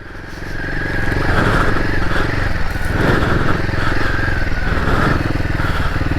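A Himalayan 450 motorcycle ridden on a UK trail, its engine holding a steady, loud drone close by with some rattle and clatter from the rough ground.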